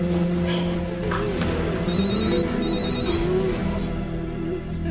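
A telephone rings with a repeating electronic trill, moderately loud over a background of low hum and faint music.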